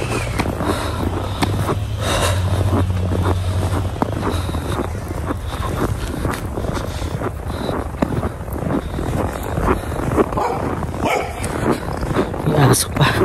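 Dog barking outdoors during a snowstorm in Smoky Lake, Alberta, heard amid heavy gusting wind noise; a person talks over it throughout.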